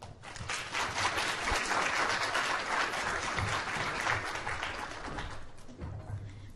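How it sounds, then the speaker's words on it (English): An audience at a plant pathology talk applauds the speakers, a full, sustained round of clapping from many hands that swells, holds steady, then thins toward the end. "let's give a last round of applause to all of our speakers"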